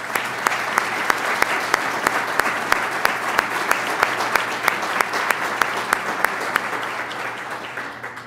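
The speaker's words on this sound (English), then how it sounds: "So please help me give them a round of applause." Audience at a county schools address bursts into steady, dense applause, many hands clapping continuously and fairly loud from start to finish, with a few sharp individual claps standing out.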